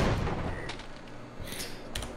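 Grenade launcher fire in a Half-Life video game: a few dull, muffled thumping blasts over a low rumbling game background, with no clear speech.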